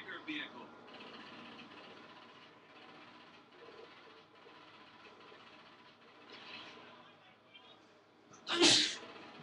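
One sudden loud sneeze near the end, after stretches of quiet talk over a low rumbling game background in a Saints Row 3 driving scene.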